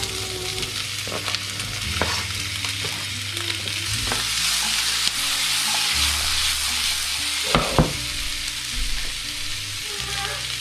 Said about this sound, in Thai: แม่จะผัดให้ผักเขาสุก